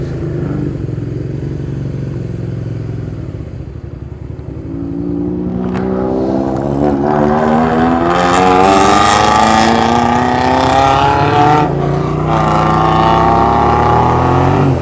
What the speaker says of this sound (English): that car sounded nice